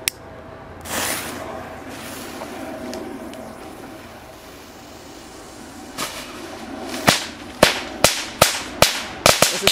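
After a stretch of quiet background noise, a Panda jumping jack firecracker pops in a quick series of about eight sharp, evenly spaced cracks, fairly loud and close.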